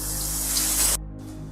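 Shower water sprays in a steady, loud hiss for about a second, then cuts off abruptly, leaving a faint quieter wash of sound trailing after.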